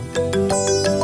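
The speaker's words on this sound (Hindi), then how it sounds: "देखो बेटी, फोन बज रहा है तुम्हारा।" An electronic phone ringtone plays in repeating tonal bursts, fairly loud and close, with no talking over it.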